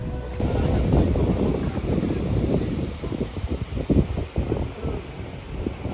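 The Rudamba waterfall near Tarabu outside Visakhapatnam makes a loud, continuous rushing roar of falling water, thick in the low end and buffeted by wind across the microphone.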